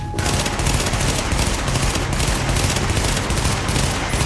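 Rapid sustained automatic gunfire in The Division, dense and loud, a continuous rattling burst with no pauses.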